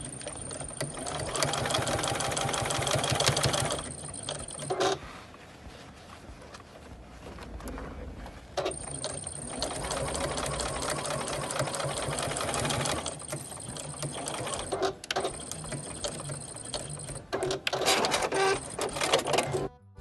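Sewing machine stitching repurposed denim scraps for small quilt squares, running in loud, fast bursts of stitching separated by short pauses.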